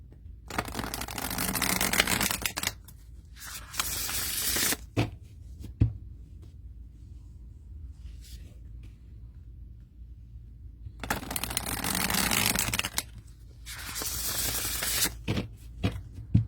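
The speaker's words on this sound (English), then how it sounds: "Let's see how they shuffle." Large glossy mass-market tarot cards are shuffled in two bursts of riffling and flapping with a quiet pause between, close and fairly loud.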